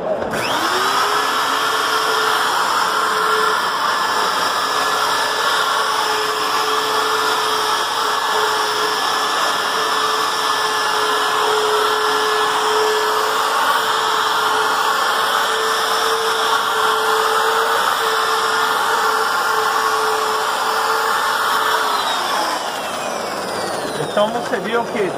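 A Wagner electric sander works over drywall joint compound, its motor spinning up quickly, holding a steady loud whine for about twenty seconds, then winding down.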